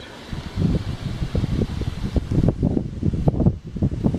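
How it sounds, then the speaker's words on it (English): Gusty wind buffets the microphone outdoors, a continuous rumbling roar that swells and rustles without pause. "it's very windy here, fair bit of wind blowing"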